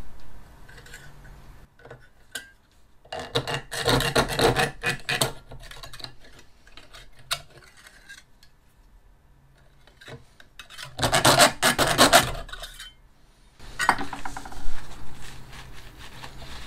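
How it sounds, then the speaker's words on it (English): Bursts of rapid rasping strokes from a small pad saw cutting metal tabs on an e-kart axle, separated by quiet pauses, close and fairly loud. "I find these pad saws are quite a nice way to cut the tabs out."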